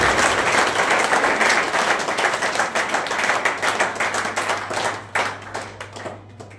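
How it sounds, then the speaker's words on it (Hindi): Enthusiastic audience clapping at an annual school academy celebration and award ceremony, dense and loud at first, then thinning into scattered individual claps as it fades over the last seconds. "सब तालियों की गड़गड़ाहट के साथ में"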